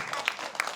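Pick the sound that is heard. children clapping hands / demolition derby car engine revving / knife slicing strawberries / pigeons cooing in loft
children clapping hands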